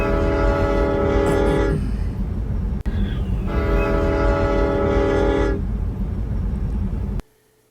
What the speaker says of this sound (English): that sound you heard was a train whistle